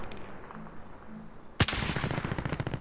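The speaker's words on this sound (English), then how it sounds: "Shots over here." A single sharp gunshot cracks out in the Warzone video game, then a dense, steady stretch of loud gunfire follows with no pauses and no one talking over it.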